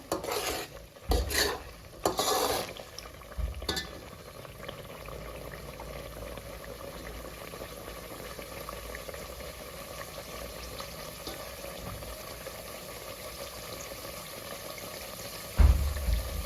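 Khoya (mawa) frying in ghee in a pan while lauki halwa is made, with a steady low sizzle throughout, several clattering stirs and scrapes near the start and a sharp knock near the end.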